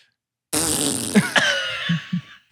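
A loud, wet fart sound effect blares in one long sputtering burst, followed by a few shorter trailing pops.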